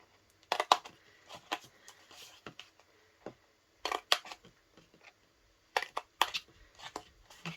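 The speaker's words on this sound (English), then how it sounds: "make sure that your scissors are nice and sharp, because remember that you are cutting through 2 pieces of card" Scissors snip through two layers of stiff card in short, crisp bursts. The cuts come irregularly, with quiet pauses between the clusters of snips.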